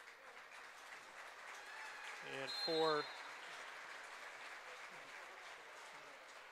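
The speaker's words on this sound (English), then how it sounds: "everybody applauding" Crowd applause fills the gym at a Muskingum men's college basketball game against Otterbein, a steady broad wash of clapping throughout, swelling briefly near the middle as a voice speaks over it.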